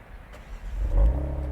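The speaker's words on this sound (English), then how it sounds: "I also really like that this has an auto start function" A 2023 Kia Stinger 330S with a twin-turbo V6 starting itself by remote: a low engine rumble builds and settles into a close, steady idle.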